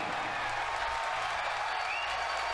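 Crowd cheering and applauding at a Falcon Heavy booster separation during a SpaceX test flight, a steady dense roar of many voices and claps filling the whole stretch without a break.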